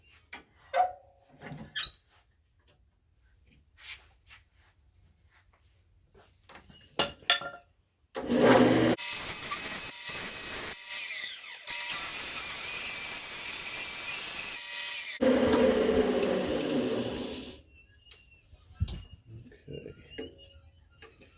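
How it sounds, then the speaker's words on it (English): Sandpaper run against the spinning inside of a segmented wooden bowl on a lathe, a steady hissing rasp for several seconds after scattered handling knocks, close and fairly loud, then fading back to small taps. "we'll run some sandpaper on the inside"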